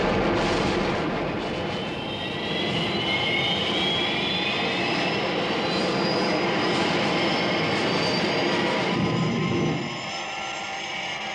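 Thunderbird 1 from an animated show, a loud sustained aircraft engine roar with a rising whine layered over a deep rumble, continuous and close, dropping slightly in level near the end.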